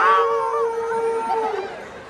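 A person's voice imitates a dog or fox howling: one long, rising and falling howl, loud and close, with a crowd murmuring behind it.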